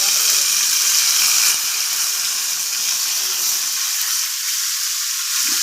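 Curry leaves hiss and sizzle in hot oil for Andhra raw mango pickle, a steady loud frying crackle that carries across the whole stretch without pause.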